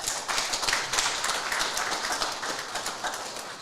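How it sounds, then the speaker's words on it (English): A room full of people gives a young man a warm round of applause, dense steady clapping throughout with no breaks, moderately loud and close. "Please give this young man a round of applause."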